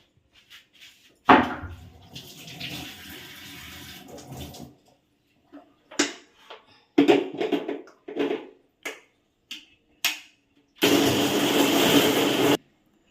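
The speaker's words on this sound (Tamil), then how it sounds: "இனிமேல் இதை நம்ம அரைச்சிடலாம்" A kitchen mixer grinder blends tamarind, cumin, garlic, salt and roasted gram into a coarse chutney, with a long whirring burst, several short pulses, then one final loud burst, all close and without talk.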